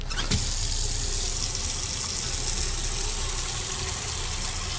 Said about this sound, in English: To test for this, I have to place the lungs in a container of water.